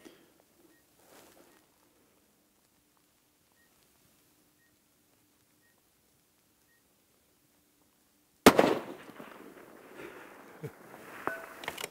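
A single sharp rifle shot from a 6GT precision rifle fired at a 1000-yard target bursts out loud and close after a long quiet stretch, followed by a ringing, rumbling tail.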